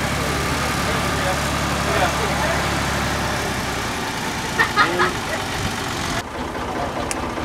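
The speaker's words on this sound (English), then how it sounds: "It's a tractor pulling a couple of carts." A tractor pulling a couple of wagon carts around a pumpkin patch farm, its engine chugging at a moderate distance beneath crowd chatter and people talking, with a few brief knocks near the end.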